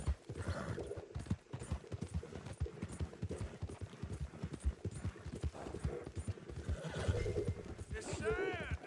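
Horse hooves clip-clop at a gallop with loud neighs and whinnies in Red Dead Redemption 2, steady hoofbeats running throughout as a voice speaks over them.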